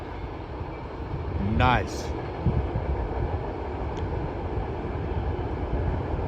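A Wisconsin Central freight train hauling steel coils rolls past with a steady low rail rumble at moderate distance, and a person briefly speaks near the start.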